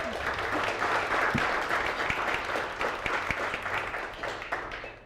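A conference crowd gives a round of applause for panel speakers, sustained clapping from many hands that holds steady, then begins to thin and fade at the end.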